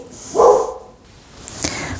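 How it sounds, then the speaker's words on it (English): A single dog bark, close and fairly loud, followed by fainter clicks and rustles in a quiet room. "had to have a brief pause to stop the barking"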